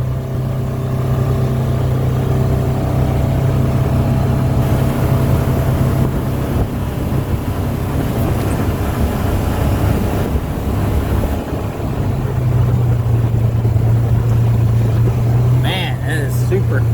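A Polaris Ranger XP900 utility vehicle idles and runs in a steady, low, continuous drone, heard close under heavy wind rumble with no distinct revving.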